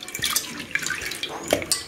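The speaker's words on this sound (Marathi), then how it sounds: "डाळ मस्तपैकी स्वच्छ 2-3 पाण्याने धुवून घेते" Lentils are rinsed in water: light splashes, sloshing and drips come in quick irregular bursts, close up and fairly quiet, with no talking.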